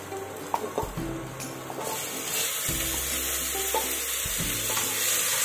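Marinated chicken for biryani is stirred in a pressure cooker, with a spoon scraping and knocking against the pot over a steady low sizzle; a handful of clanks stand out, and the sound is moderately close and fairly quiet.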